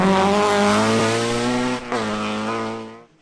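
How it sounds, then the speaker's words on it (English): A rapid little Mini rally car races flat out along a rally stage, its engine note loud and close, dipping briefly as it shifts, then fading away as it passes. "Up to 5th place with a second fastest rally car stage time in here is Stephen Smith in his rapid little Mini"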